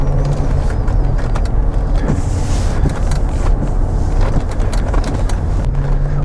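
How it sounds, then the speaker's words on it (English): A 2022 Wagoneer Series III driving on a Pennsylvania country road. A loud, steady low engine and road rumble is heard from inside the cabin, with faint rattles and bumps throughout and no talking. "We've brought the 2022 Wagoneer Series III out for a drive up into the Pennsylvania countryside"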